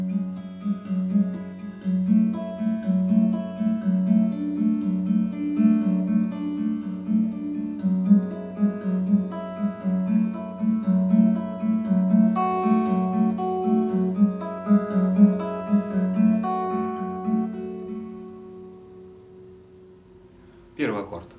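Acoustic guitar fingerpicking the bridge section of a song, steady arpeggiated chords played alone and close for about twenty seconds before the last notes ring out.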